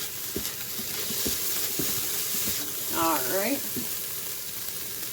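Chopped onion fries in a hot pan, giving a steady close sizzle with intermittent scraping and stirring knocks, while a person says a brief word partway through.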